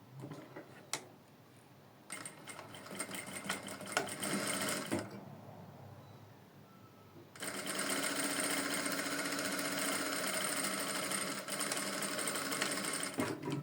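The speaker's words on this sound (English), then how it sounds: "So I'm going to be sewing on this line." A domestic sewing machine stitching a seam along a marked line on fabric, in rapid mechanical bursts with short pauses, then one long continuous run, close and fairly quiet.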